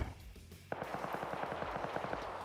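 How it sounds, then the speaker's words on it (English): An artillery barrage in the video game Wargames hammers a hillside, an initial distant thump followed by a rapid, evenly spaced train of impacts rumbling steadily and faintly, with no voices. "Accord fires a barrage into the hillside and actually nails Carboner"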